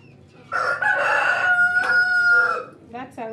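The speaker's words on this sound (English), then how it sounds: "That's a rooster, guys." A rooster crows loudly and close by, one long drawn-out cock-a-doodle-doo, followed by a few short clucking notes.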